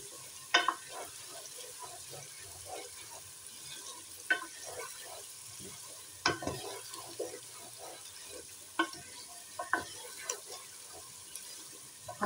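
Potatoes and masala frying in a pan for Indian aloo tihari, heard as a faint, steady sizzle broken by scattered scraping taps of a spoon stirring, quiet and close.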